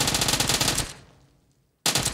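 Rapid automatic gunfire in the video game PUBG in a fast burst, a short pause of silence, then another loud burst starts abruptly.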